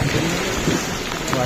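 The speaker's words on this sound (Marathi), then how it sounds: "पाऊस भरपूर लागलेला आहे" Heavy downpour pouring steadily, a dense close hiss of rain drumming on surfaces with no break, brief and loud.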